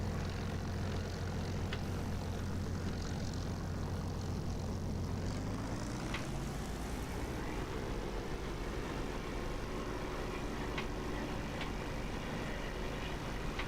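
A propeller aircraft engine in the DCS flight simulator game drones steadily throughout, its low tone rising in pitch midway as the throttle increases, with faint clicks on top and no talk.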